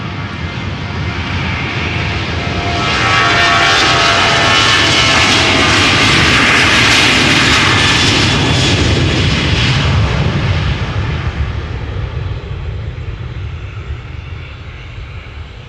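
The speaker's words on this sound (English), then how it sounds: "Follow this Transavia's departure to Alicante" A Transavia Boeing 737-800 bound for Alicante roars down the runway on takeoff, its loud broadband jet thunder building to a peak mid-clip and then easing off as it climbs away, with no talk over it.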